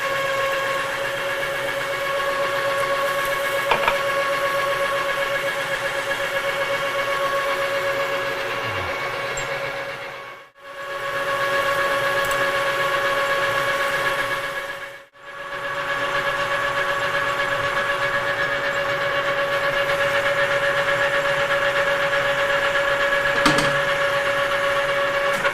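Milling machine plunging into a cut during spindle bearing work: a steady mechanical whine with strong tonal hum, running continuously and loud, briefly dropping out twice before resuming, with no talking.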